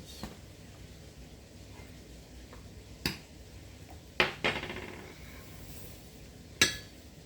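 A metal spoon is set down and cutlery clinks against a dish, a few separate sharp chinks spaced seconds apart over quiet room tone.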